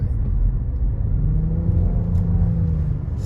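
Inside a 2022 Nissan Rogue, a steady low rumble of engine and road noise swells slightly as the SUV accelerates, with no other sounds standing out.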